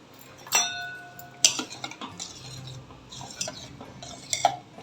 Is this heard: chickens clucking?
no